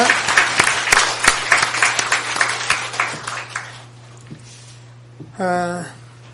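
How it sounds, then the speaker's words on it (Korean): A church congregation applauds in worship, a lively burst of clapping that fades out over a few seconds, followed by a brief sung or sustained tonal sound near the end over a steady low hum. "하나님께 한번 영광의 박수를 드리겠습니다"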